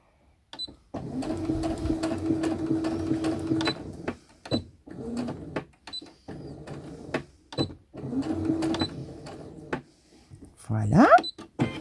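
A sewing machine stitches a shirt seam up to the corner in bursts of rapid mechanical whirring, stopping and starting several times, with brief clicks and a short squeak at the end.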